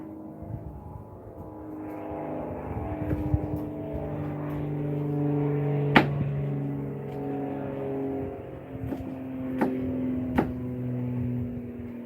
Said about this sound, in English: Sorry about all the car noises.